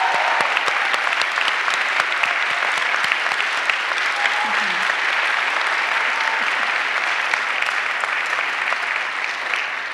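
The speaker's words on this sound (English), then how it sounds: "if we could just give her just a round of applause for her gifts" A presidential inauguration audience gives a round of applause in a large hall. The dense, steady clapping holds at an even level for the whole stretch, with faint murmurs and brief voices mixed in.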